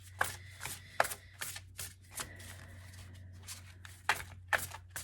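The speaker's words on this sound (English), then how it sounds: "this deck is very large for my tiny baby hands, so I'm going to do my best shuffling it" A large deck of oracle cards being shuffled by hand in repeated quick riffling bursts, close and moderately soft, with a low steady hum underneath.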